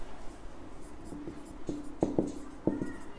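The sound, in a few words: writing out a maths proof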